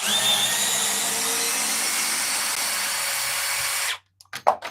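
A Milwaukee M12 compact drill runs at a steady high whine for about four seconds, then cuts off abruptly, followed by a few short clicks and bursts in the sudden quiet.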